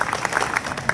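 An audience at a public gathering in Pune claps in congratulation, a quick scattered burst of many hands with uneven sharp peaks, brief and moderately close.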